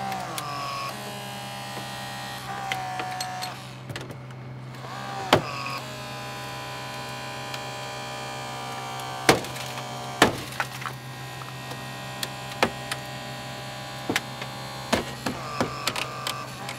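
A hydraulic rescue tool works on a two-door car during a vehicle extrication, popping the top door hinge. Its steady motor hum runs throughout, broken by several sharp, loud cracks and snaps of straining metal at scattered moments.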